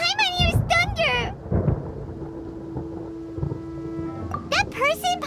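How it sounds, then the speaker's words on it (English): Thunder in the Genshin Impact video game: a low, rolling rumble in the middle of the stretch, framed by game character voices talking before and after it. "Paimon hears thunder!"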